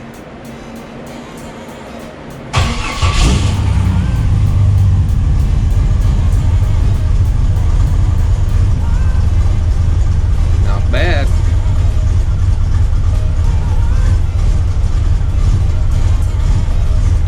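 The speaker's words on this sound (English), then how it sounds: "Every time I start this thing, I am just in love with the sound of that cam." A Jeep engine with a lumpy performance cam cranks and fires about two and a half seconds in, then settles into a loud, steady, choppy idle that runs to the end, with someone briefly speaking over it.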